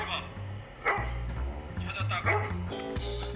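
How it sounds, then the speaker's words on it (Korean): A dog named Judy barking happily after finding her owner in a shop, a few sharp, high, clear barks spread over a few seconds, close and fairly loud, with voices heard around them. "반갑게 짖는 소리예요."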